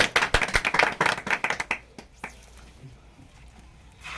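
A crowd claps enthusiastically for about two seconds, then the applause quickly dies away to a few scattered claps and quiet room noise.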